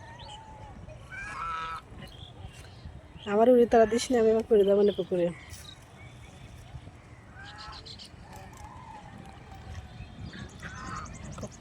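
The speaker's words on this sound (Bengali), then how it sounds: "এত সুন্দর সাদা রাজহাঁসটা করে নামছে।" A white domestic goose bathing in a large pond gives a burst of loud, harsh honks for about two seconds, close by, amid a woman's speech before and after.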